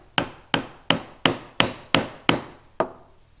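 A mallet striking a chisel to chop a mortise in wood by hand: seven sharp, evenly spaced knocks, each ringing briefly, close up with no voices.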